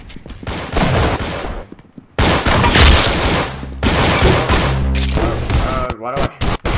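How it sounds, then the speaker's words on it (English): Sawed-off shotgun blasts from a Roblox shooting game, loud and close, mixed into dense gunfire and game noise, with a player talking over the shots. "this is the sawed off shotgun"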